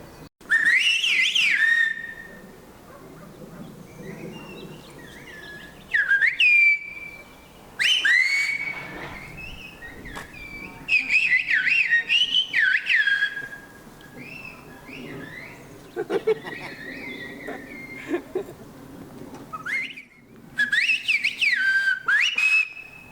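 Whistled language of San Juan rings out as piercing human whistles trade phrases of gliding, warbling tones, loud and near, in bursts separated by short pauses across a quiet outdoor setting.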